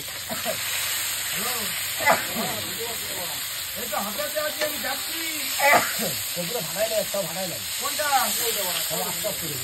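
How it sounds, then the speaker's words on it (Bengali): Fish sizzles in a frying pan with a steady, hissing crackle at an outdoor meal, running under people talking nearby. "আর এখানে আমার মাছ ভাজা হচ্ছে"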